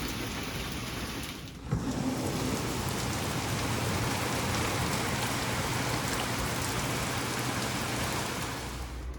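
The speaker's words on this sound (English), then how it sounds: "now it is a torrential downpour" Torrential summer downpour over a garden, a loud steady roar of heavy rain on surfaces that thickens after a brief dip near the start, with low rumbling thunder beneath throughout.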